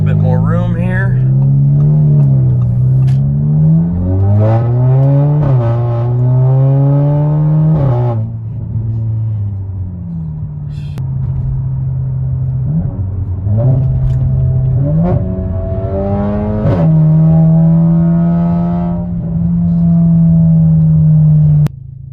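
An Audi B9 A4 with a loud modified exhaust revs hard on an open road, its engine note climbing and dropping in repeated pitch sweeps through the gears, close and sustained throughout.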